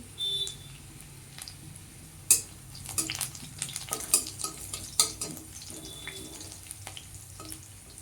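Onions frying in a pan with curry leaves until golden brown, a steady close sizzle with stirring scrapes and clinks from a spoon against the pan.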